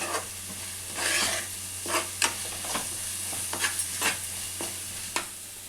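Chili powder and spices frying in hot oil for a tamarind curry of korameenu fish: a close, continuous sizzle broken by repeated scraping stirs of a spoon through the pan.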